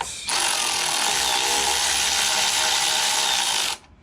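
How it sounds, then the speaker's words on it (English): Ratchet tightening bolts on an Ares Fabrication rear expedition tire carrier on a Jeep Cherokee XJ, a loud, steady, continuous mechanical whir close by, cutting off abruptly near the end. "we'll go ahead and grab our ratchet"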